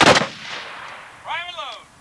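A single loud musket volley cracks out at a 1995 bicentennial reenactment in Montgomery, Ohio, then fades. A brief bright whistling tone rises and falls about a second later.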